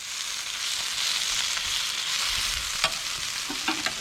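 Sausage and peppers fry in a pan at a campsite, giving a soft, steady sizzle with a few light clicks near the end.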